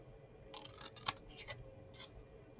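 Scissors snip through gift ribbon at an inch-wide score line, giving a few quiet, crisp cuts spread across a couple of seconds with one sharper snip standing out, close by and with no talking.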